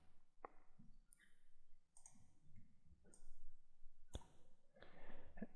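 A computer mouse gives several sharp, separate clicks spaced about a second apart, faint and close in a quiet room with no talk.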